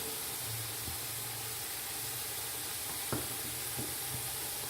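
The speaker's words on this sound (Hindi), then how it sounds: "4 देसी अंडे इस घी में डालूँगी" Four country eggs go into hot ghee for carrot halwa, giving a soft, steady sizzle with a low hum beneath and a few brief clicks and taps, fairly quiet and without voices.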